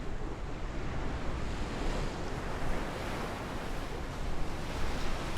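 Steady rolling surf and ocean waves mixed with gusting wind in a flight simulator's weather scene, a continuous broadband wash holding an even, moderately loud level throughout with no voices.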